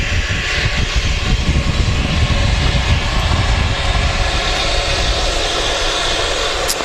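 An Embraer regional jet arriving from Guernsey at Manchester Airport gives off a loud, continuous engine roar with deep rumbling low end, steady for the whole stretch and free of speech.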